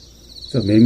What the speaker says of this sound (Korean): 지금 매미가 들리죠? 맴 들리죠?